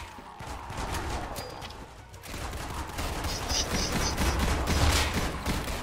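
Gunfire in a Roblox zombie shooter game, with bursts of rapid shots and crackling fusillades at moderate level, pausing briefly before continuing with more shots.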